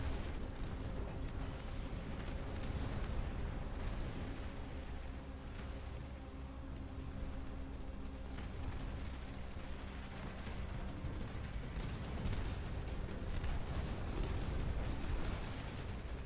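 Howitzer artillery fire in a video game: a dense, continuous barrage of booming blasts and rumbling explosions, heard at a distance and fairly low in level.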